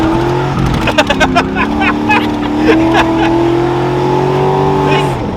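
An LS-swapped G-body car downshifts and revs on a road, the engine's loud close drone holding a steady pitch and then climbing, with a brief tone shift near the start and people talking faintly underneath.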